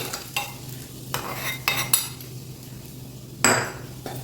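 Fried ingredients being stirred into kajjikaya flour in a bowl, giving scattered scrapes and clinks of a spoon against the dish, with one sharper knock near the end, close and fairly quiet.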